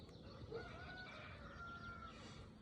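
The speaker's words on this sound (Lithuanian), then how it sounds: "Jūs girdit, kaip gaida geida." During an outdoor fishing trip, a distant rooster's crow carries faintly as a thin sustained call over steady low background noise.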